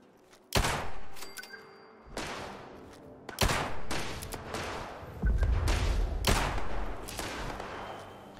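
Gunfire in Fallout 76: several loud, sharp shots burst out at irregular intervals, each one followed by a decaying rumble and some heavier thuds, with no voices heard.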